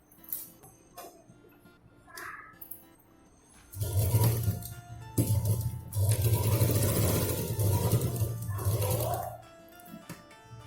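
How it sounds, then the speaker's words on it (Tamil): A sewing machine stitches a zipper onto a fabric purse. Soft handling clicks come first, then two loud, steady bursts of close machine stitching follow one after the other. "வச்சுட்டு இங்கே இருந்து இங்கே வரைக்கும் 2 தையல் போட்டு எடுத்துக்கலாம்."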